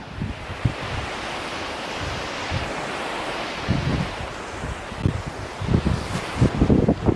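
Sea waves wash in on Purakkad beach, Alappuzha, with a continuous broad roar, while low rumbling gusts and surges grow louder toward the end.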